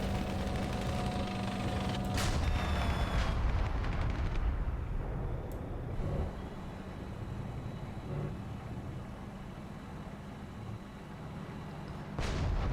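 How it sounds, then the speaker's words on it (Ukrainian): Leopard 2A6 main battle tank engine in War Thunder with a realistic sound mod, a loud, steady low rumble with gunfire-like bursts and booms breaking through, and no talk. "Двигунчик то приємно працює"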